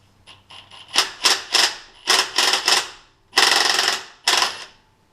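Impact wrench hammering on a tight 14 mm timing belt tensioner bolt of a Nissan Pathfinder, several short loud rattling bursts in quick succession, then a longer burst and one final short one.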